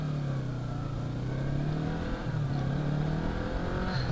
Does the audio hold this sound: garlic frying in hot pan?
no